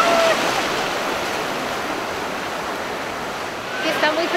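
Cold North Sea waves wash onto the beach at Scheveningen, a dense, continuous roar of surf close by, with a slight swell in loudness toward the end.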